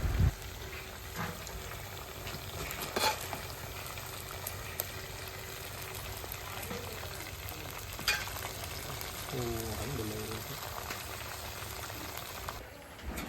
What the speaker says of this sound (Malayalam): ചിക്കൻ ഏകദേശം ഒരു പതിനഞ്ച് മിനിറ്റ് നമുക്കൊന്ന് പൊരിച്ചെടുക്കാം കേട്ടോ അത് നല്ലപോലെ ഇളക്കിയിട്ട് വേണം വേവിച്ചെടുക്കാൻ